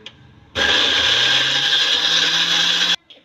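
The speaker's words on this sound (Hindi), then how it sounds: "ये ऐसे इसको ग्राइंडर में डालती जाऊँगी और इसको पीसती जाएंगे" An electric grinder whirs loudly and steadily for about two and a half seconds while grinding dried turmeric at home, starting abruptly and cutting off sharply, with faint handling noise before and after.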